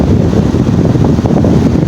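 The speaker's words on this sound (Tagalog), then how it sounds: "Lakas pa ng hangin mga idol." Strong, steady wind buffets the microphone without letup, a dense low roar with gusty surges, as the amihan blows at evening.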